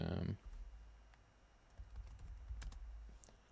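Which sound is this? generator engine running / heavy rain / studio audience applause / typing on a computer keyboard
typing on a computer keyboard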